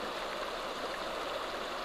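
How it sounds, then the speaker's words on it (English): A river stream flowing steadily, a continuous broadband rush of water with no breaks, close and fairly full, with no voices. "As I stand in the river in this moment"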